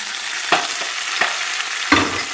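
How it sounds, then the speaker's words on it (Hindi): Hot tadka tempering is poured onto cooked dal and sizzles loudly in a steady crackling hiss, with a few sharper spattering bursts. There is no talking. "और अब मैं डालने लगी हूँ अपने तड़का जो दाल वाला मैंने तैयार किया था।"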